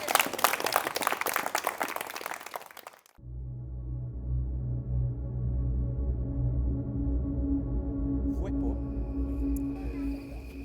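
Audience at an evening storytelling event with lanterns applauds briefly for about three seconds, a bright burst of clapping that cuts off abruptly, followed by a low rumbling background hum.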